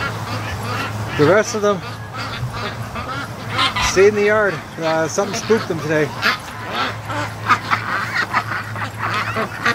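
Free-range farm ducks and a goose near a lake and yard, calling with repeated honks and quacks in short bursts, close and fairly loud, while a person talks over them.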